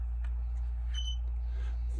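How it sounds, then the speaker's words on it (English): A photo printer gives a single short, high electronic beep as paper feeds in, heard over a steady low hum. "you should wait for a beep, 2 beeps"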